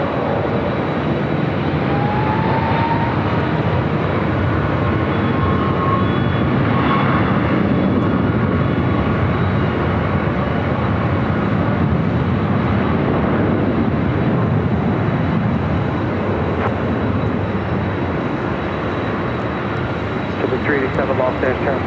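A Delta Boeing 757-200 taking off from runway 24 left at Los Angeles International Airport, its jet engines a loud, steady, broadband roar that holds for the whole stretch.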